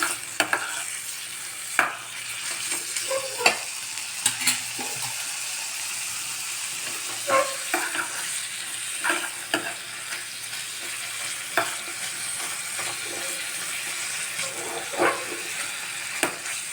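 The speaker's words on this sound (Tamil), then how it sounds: "லைட்டாக ஃப்ரை பண்ணிக்கலாம் கொஞ்சம்" Paneer, mixed greens and rice fry lightly in a pan under a steady sizzle, with repeated spoon taps and scrapes of stirring at irregular intervals throughout.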